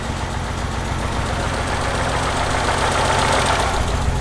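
A damaged BMW E30 engine runs steadily up close, a constant rough, knocking rumble that grows slightly louder toward the end, with no talking over it.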